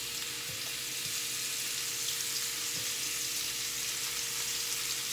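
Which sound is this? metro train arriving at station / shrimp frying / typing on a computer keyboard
shrimp frying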